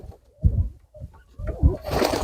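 Pigeons cooing inside a dovecote: two soft, low throaty coos in quick succession, close by, followed by a brief rustle and hiss of movement at the end, with no voices.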